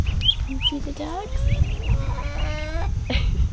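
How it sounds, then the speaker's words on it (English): Ducks quack and chatter in a series of short nasal calls over outdoor rumble and wind, fairly close, with a louder burst near the end. "They're scaredy ducks."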